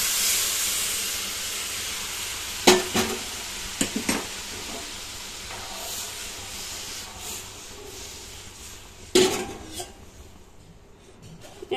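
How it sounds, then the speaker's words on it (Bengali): Onions and chillies frying in a pan, with a soft continuous sizzle and hiss and a few louder scraping stirs. "তারপরে আলু সেদ্ধ পেঁয়াজ লঙ্কা ভাজবো।"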